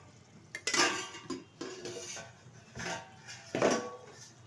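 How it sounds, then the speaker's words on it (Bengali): A metal lid comes off a cooking pot of aloo posto, giving a few close clanks and scrapes with quiet gaps between, and no voices. "ঢাকনাটা তুলে দিচ্ছি।"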